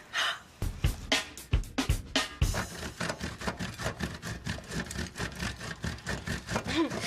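A bar of soap is grated in quick, close, rhythmic rasping strokes, a steady back-and-forth scraping that carries on without talk.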